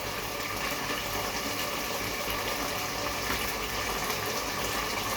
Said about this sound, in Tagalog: Lagyan pa daw ng tubig.